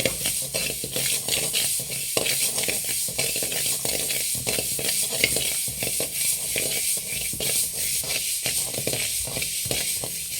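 Fenugreek seeds dry-roasting in a pan for homemade sambar powder, a steady close scraping and rattling stir with a light dry hiss throughout, no voices.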